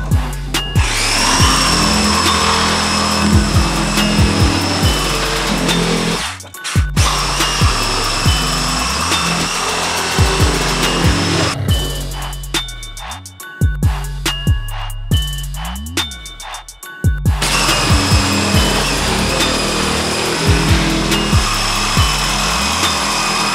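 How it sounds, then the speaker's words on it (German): A power saw cuts through construction lumber on a building site, a loud sustained whine broken by short pauses and restarts, with repeated passes through the wood and no talk. "schneidet schon mal das Baustellenmaterial von gestern und der vergangenen Tage"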